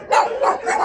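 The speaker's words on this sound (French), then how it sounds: "ça arrête pas d'aboyer pour rien, ça." A dog barks in quick succession, three or four short, sharp yaps close by and fairly loud, with no other sound around them.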